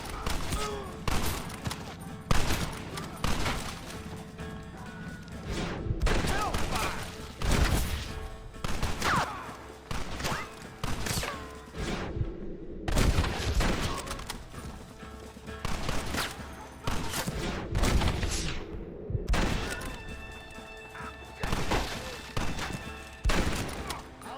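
Gunfire in a firefight in Red Dead Redemption, dense bursts of rapid shots and booms repeating throughout, loud and close, with brief pauses and shouted voices mixed in.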